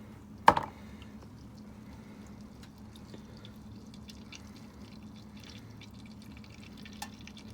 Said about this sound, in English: we're gonna go ahead and crack that loose and drain it out